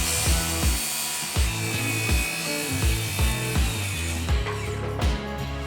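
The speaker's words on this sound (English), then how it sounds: "We're gonna be cutting our plywood to the outside dimensions of the box." A saw cuts plywood to size for the back of an outdoor TV cabinet, running loud and steady with a regular rocking rhythm of strokes throughout.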